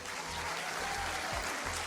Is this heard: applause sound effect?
yes